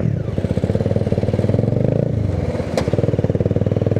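A Honda CBR 250R motorcycle engine idles and revs close by, with a steady rapid throbbing pulse that rises and dips, and a brief crackle partway through.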